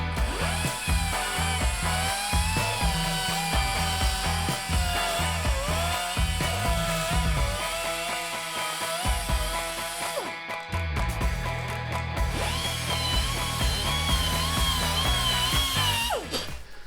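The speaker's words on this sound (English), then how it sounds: "as the belt flexes, it's sanding more around the tube" A belt sander grinds along a dented steel bicycle frame tube, giving a steady loud motor whine with shifting tones as the belt flexes around the tube, nearly continuous with one brief dip midway.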